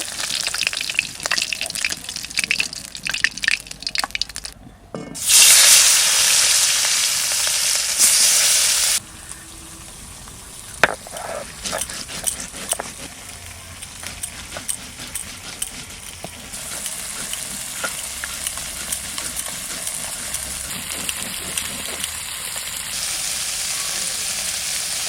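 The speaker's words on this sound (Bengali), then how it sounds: "ট্যাংরা মাছ ভাজা হয়ে গেছে, আবার ছোট মাছও ভাজা চাপাই দিচ্ছি।" Small river tengra fish fry in hot oil: a loud, rushing burst of sizzle rises for a few seconds, then settles into a softer hiss scattered with sharp pops and crackles, with no one speaking.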